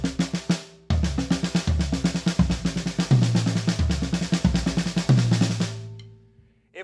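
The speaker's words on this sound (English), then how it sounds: "Let's do right," A drummer plays a six-note sticking of right, left, right, right, left, left around the kit, with rapid repeated strokes and heavy bass-drum thumps in a steady cycle, loud and close, then a final ringing decay with no voice.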